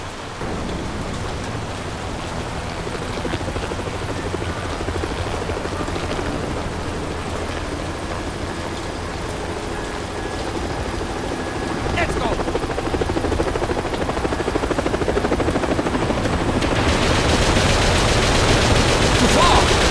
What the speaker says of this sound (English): Helicopter coming for us.